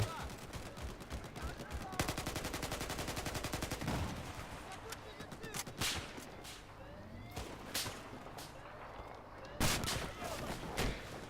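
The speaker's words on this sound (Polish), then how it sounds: "Wyjebałem mu z armaty, ale nie dostał." Rapid bursts of automatic gunfire and heavy cannon blasts from a Battlefield 4 multiplayer battle, loud sharp volleys repeating through the scene with a brief muffled voice among them.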